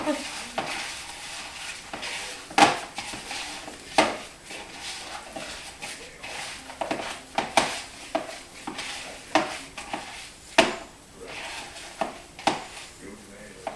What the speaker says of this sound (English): I'm going to go ahead and mix it all up. Try to keep it in the bowl.